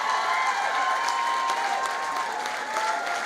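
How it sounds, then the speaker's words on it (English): A full theatre audience at a charity talent show gives a continuous, dense round of applause for the performing acts, a loud even wash of clapping with faint cheering mixed in and no individual voices standing out. "give the rest of the acts an absolute fantastic round of applause"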